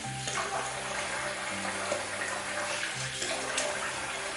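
Running water from a tap rinses alum off a face during a wet shave, a steady close splashing gush lasting the whole stretch with no talking.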